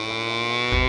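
Cattle in a herd scavenging garbage give a sustained low, tonal moo that swells louder toward the end, heard alone without talk.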